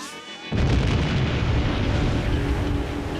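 An explosion is set off for a test of surfing a wave from a blast. After a short quieter lead-in, a sudden loud boom breaks out and settles into a sustained roaring rumble of spray and debris.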